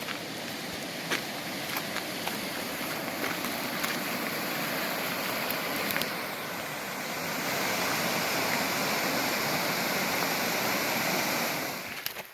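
The North Fork of Lake Creek rushes beneath a bridge, a continuous broad roar of flowing water that swells a little louder midway, with no voices.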